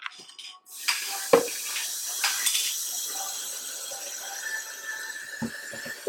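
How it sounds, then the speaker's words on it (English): Water is poured into a cooking pot while making porridge, a steady close hiss and splash that runs for several seconds after a short quiet start, with a few brief knocks and clatters along the way. "Add some water."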